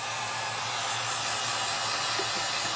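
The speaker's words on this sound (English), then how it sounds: "Get my heat gun." A heat gun, used to loosen an iPad 2 screen, blows with a steady, loud rushing whoosh and a low motor hum, constant and uninterrupted throughout.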